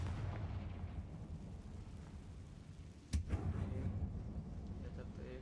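A single sharp blast from a Confringo spell bursts out in the video game Hogwarts Legacy, a brief loud crack over a low, constant ambient rumble with game voices under it.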